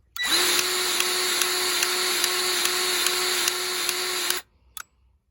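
A powered grease gun runs as its trigger is held to grease a machine, a loud, steady motor whine lasting about four seconds before stopping, followed by a small click.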